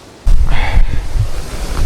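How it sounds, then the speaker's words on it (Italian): Strong wind buffeting a microphone outdoors at night beside a camera tripod, a sudden loud roaring gust that stays heavy and rumbling, with no talking. "c'è veramente vento forte"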